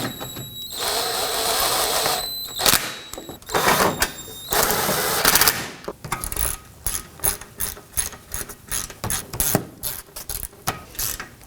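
Ratchet wrench snugging bolts on the front left CV axle assembly of a 2018-2024 Toyota Camry 2.5L four-cylinder, loud close clicking in quick bursts, opening with a whirring power-tool stretch, then rhythmic ratchet strokes with no speech.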